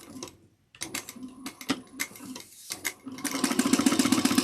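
A sewing machine runs in short bursts, top stitching along the folds of a fabric bag, its motor whirring in stop-start runs before settling into a steady, close, continuous stitching rattle.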